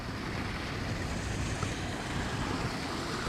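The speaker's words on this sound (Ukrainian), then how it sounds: "Такий водопадик." A small waterfall beside a lake produces a continuous, even rush of falling water, close and moderately loud, with a steady hiss throughout.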